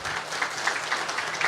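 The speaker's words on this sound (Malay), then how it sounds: "Satu tepukan kepada Datuk Seri Anwar Ibrahim." A village crowd at a political gathering claps for Datuk Seri Anwar Ibrahim, a brief, moderately quiet patter of many hands with a few sharper claps rising out of it.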